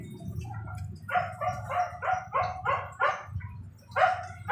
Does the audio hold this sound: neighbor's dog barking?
yes